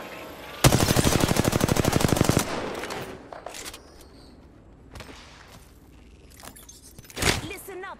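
Rapid automatic gunfire aimed at the player in Apex Legends, a loud, close burst of fast shots lasting under two seconds, followed by scattered quieter hits, sharp impacts and game sounds.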